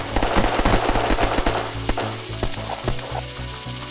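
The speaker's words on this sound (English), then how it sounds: "that drill's going, so we're back in business." A drill runs in the video game Unturned with a steady mechanical whirring and grinding hum, punctuated by rapid sharp clicking bursts like gunfire in the background, loud and continuous.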